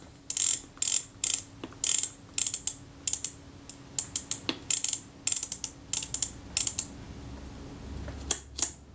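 Film advance lever on a Kodak Retina II camera being wound, producing rapid ratcheting clicks in irregular bursts, close up and alone with no voices.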